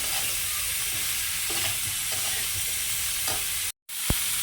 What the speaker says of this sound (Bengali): এবার পনির আলু আর সয়াবিনটা দিয়ে দেবো এটা কষিয়ে নিই